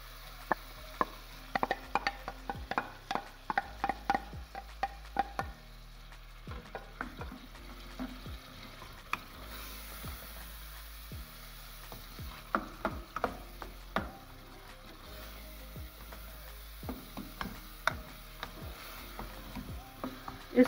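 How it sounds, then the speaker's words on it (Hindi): Mixed saag greens stir-fried in masala in a pan, with a low steady sizzle under repeated scraping and clinking strokes of a spoon stirring at an uneven rhythm, close up and without talk. "इसको हम थोड़ा भूनेंगे ताकि ऑयल ये छोड़ दे"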